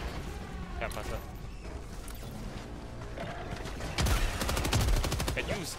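Video game gunfire heard as rapid automatic bursts and scattered shots that build into a dense, loud rattling volley toward the end, mixed with people talking over it.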